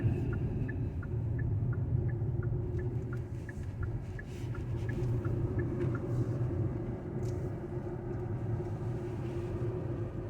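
A Kia EV6 electric car towing a caravan cruises along a dual carriageway, with a steady low road rumble and tyre noise throughout and a soft rhythmic ticking in the cabin.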